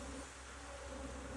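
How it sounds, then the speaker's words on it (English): Bees buzz at an open hive, a continuous droning hum close by and fairly quiet, with no voices over it. "there's a lot of bees here getting set"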